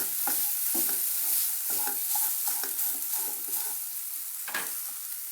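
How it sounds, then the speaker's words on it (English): Sweet modak dumplings fry in hot oil in a pan, giving a constant bright sizzle punctuated by irregular stirring scrapes and bubbling bursts. "I am going to heat a pan with oil for frying this"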